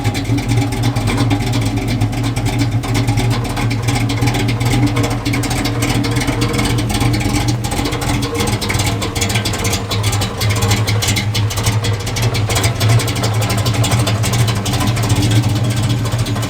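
A car engine runs steadily on a fuel vaporizer during a gas mileage test, a loud constant hum and whir with no change in pitch, and no talking.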